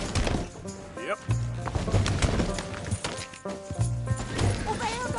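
In a Red Dead Redemption 2 game scene, horse hooves drum out a quick rhythm and fade as the animal gallops off, layered over ambient game sounds, music and some voices.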